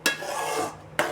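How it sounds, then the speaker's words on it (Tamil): A spoon scrapes and stirs sweet semolina kesari bath in a pan, giving a steady close gritty rasp with sharper scrapes at the start and end. "நல்லா கிளறிக்கணுங்க"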